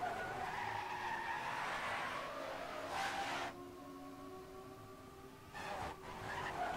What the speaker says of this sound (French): Zach qui drift cette fois.